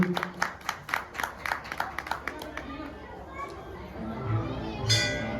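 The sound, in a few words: audience applause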